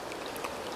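Acidic fluid drips off snotites inside a cave, a brief patter of soft, close drips over a steady wet background hiss.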